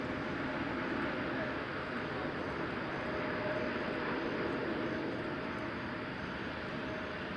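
Steady, loud roar of an Air Canada Boeing 777-300 jet airliner on the ground at Toronto Pearson airport, lining up for departure to London Heathrow, a continuous broadband engine rumble with a faint whine that holds evenly throughout.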